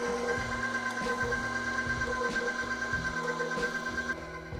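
A stand mixer with a paddle attachment runs on low speed through rum baba dough, giving a continuous close mechanical hum with a rhythmic churning pulse and no talk.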